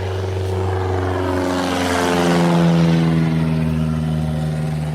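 A propeller airplane flies low overhead near a beach, its steady droning engine rising to a peak at mid-clip and easing off again, loud and continuous with no talking.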